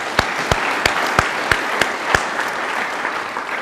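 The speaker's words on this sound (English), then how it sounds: "Can I give a, give them a big round of applause." Applause for party board members and officials at a political party gathering, with sharp separate claps standing out over a steady wash of clapping from the crowd.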